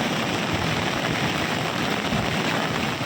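Heavy monsoon rain pours down in Tapi district, Gujarat, where rivers are in flood, making a dense, unbroken roar that stays loud and steady throughout with no voices.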